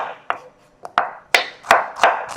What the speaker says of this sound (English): Cut my onions very fine. Cut them up.